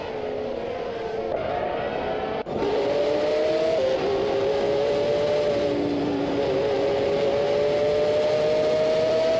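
Formula 1 race cars roaring around a track in a racing video game, engines whining in a sustained high drone with pitch shifts as they shift gears and accelerate, loud and close with a brief break midway.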